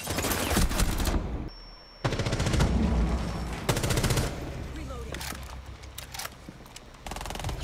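Rapid automatic gunfire in the shooter game Shooter: Alien Encounter arrives in several loud bursts separated by brief pauses. Players talk between the volleys.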